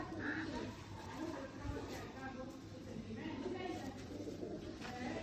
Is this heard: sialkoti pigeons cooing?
yes